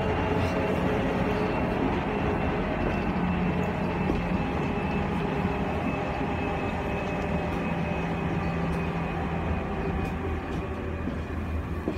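A subway train in Japan gives a steady, loud rumble and hum from inside the moving car, unbroken throughout with no talk.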